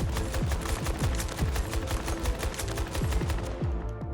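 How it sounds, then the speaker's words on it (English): A 12 Auto automatic shotgun fires in Battlefield 2042, a rapid, evenly spaced string of heavy booming blasts, about three per second, loud and close with no talk over it. "giving you a weapon where it's just so powerful when it comes to all shotguns, and that is the 12 auto"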